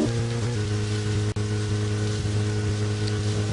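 Steady rain in Deadly Premonition patters across a surface with no break, over a low, sustained musical drone, and one sharp click cuts through partway in.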